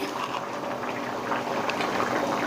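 Sweet potato and drumstick curry boiling in a pot, a steady close bubbling and simmering hiss that holds evenly throughout without talk.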